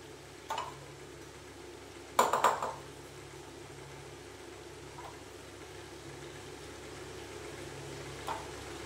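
A spoon stirs a cooking pot of thor ghonto, a banana-stem dish, making a few scattered metallic clinks and scrapes, one louder clatter among them, over a faint low hum.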